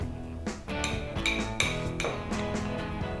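A spoon clinks and scrapes against a bowl while stirring chia pudding mixed with syrup and spirulina, a close, steady run of bright metallic taps and rattles lasting several seconds.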